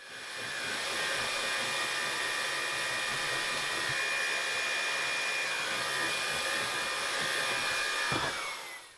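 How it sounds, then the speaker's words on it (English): Vacuum cleaner running a mini motorised pet tool over cheap carpeting inside a Honda CR-Z, a loud steady high-pitched whine held close for several seconds before the motor cuts off at the end. "running the highly effective mini motorised pet tool, which simultaneously agitates and vacuums, over the cheap carpeting below"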